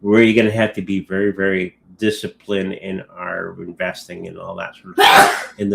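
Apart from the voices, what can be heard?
sneeze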